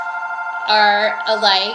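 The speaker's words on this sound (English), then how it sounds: "I know that's the phone ringing." A telephone rings in a room, a steady electronic trill that runs under a voice for nearly two seconds, fairly loud and close.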